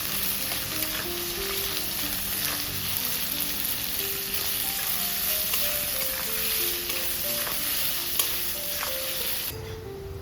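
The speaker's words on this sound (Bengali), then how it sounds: "পেঁয়াজের মধ্যে অল্প করে নুন দেবো এটা হালকা আঁচে ভাজতে হবে" Onions with a little salt frying over low heat for chicken biryani give a steady, even sizzle that carries on without a break, with faint background music over it.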